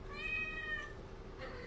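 A cat on a cat tree gives a single drawn-out meow, close and clear, followed by a softer second cry, with no talking.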